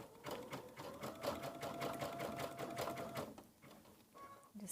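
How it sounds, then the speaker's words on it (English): A sewing machine stitches a quilted rope bowl in one continuous, rapid, rhythmic run of needle strokes, close but fairly quiet, slowing and stopping near the end. "Then I'll just go back and I can continue sewing."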